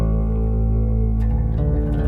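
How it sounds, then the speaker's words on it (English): A GarageBand amp on an iPad runs through a chain of effect pedals, giving a loud, sustained ambient guitar tone with heavy reverb, delay and chorus that swells steadily and shifts in texture partway through, with no talking. "The first one is an amp, and I have a number of pedals here. Some are on, some are off."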